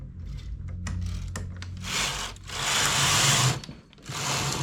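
Carriage of a domestic knitting machine swept across a row while knitting a double-faced adult hat with ear flaps, a loud, steady mechanical whirring and rattle with brief clicks at the start and ends of the pass.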